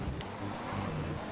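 A four-wheel drive car's engine from GTA: San Andreas hums and revs in a brief continuous low drone, close and steady with no talk over it.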